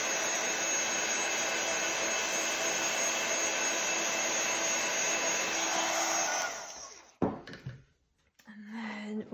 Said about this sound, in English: I'm going to use my heat gun just to heat set that